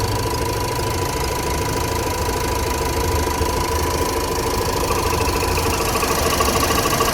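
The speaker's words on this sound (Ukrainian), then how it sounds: "Ну, цей двигун класно працює, м'якенько, рівненько." A 2011 Renault Laguna 2.0 dCi diesel engine idling with a steady, even clatter and a constant low hum, heard up close and loud throughout, with no talking.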